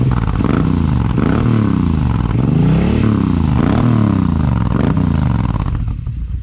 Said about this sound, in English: Overall, definitely a good sounding exhaust.